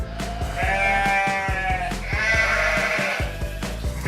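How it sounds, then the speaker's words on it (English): A sheep bleats in two long, wavering calls, close and clear, with soft steady clicks and taps underneath and no talking. "Sheep make the sound."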